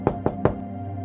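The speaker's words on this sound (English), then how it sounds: "knocks on the door with the head of her gnarled walking stick" Three sharp knocks on a door struck with the head of a gnarled wooden walking stick, evenly spaced and fairly close, over a faint steady hum with no voices.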